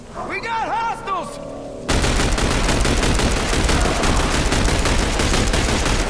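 Gunfire in the shooter game The Bureau: XCOM Declassified: after a brief stretch of voices and electronic tones, loud continuous rapid-fire shooting erupts and keeps going without a break, close and dense.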